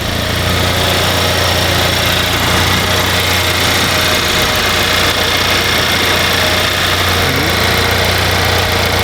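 A Honda Civic Type R fitted with a big turbo and downpipe idles steadily, a loud, continuous close-up engine rumble with a slight knocking texture and no talk.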